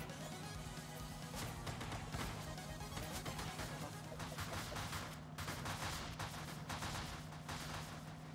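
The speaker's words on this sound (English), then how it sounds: "You think they would have gone with bigger explosion sounds?" Rapid bursts of retro-style explosion effects from the TMNT Shredder's Revenge video game, dense crackling blasts firing in quick succession, loud and continuous, with no talking.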